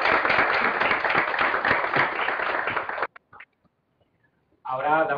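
Loud, dense audience applause fills a debate hall on violence against women and then stops abruptly, leaving a brief quiet before a voice speaks.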